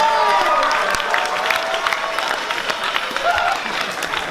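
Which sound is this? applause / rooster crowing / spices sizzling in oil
applause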